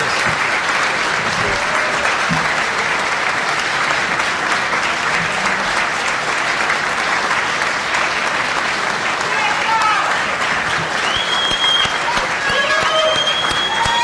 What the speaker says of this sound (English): I'd like to give a round of applause for all of her efforts behind the scenes.